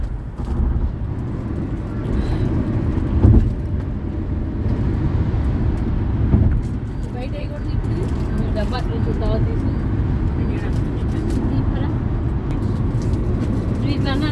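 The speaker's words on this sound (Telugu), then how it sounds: "మిరాకిల్ గార్డెన్కి వెళ్తున్నాం కారులో." Steady road rumble from inside a car driving through Dubai in the evening, a constant low drone with a couple of soft bumps, heard under ongoing conversation.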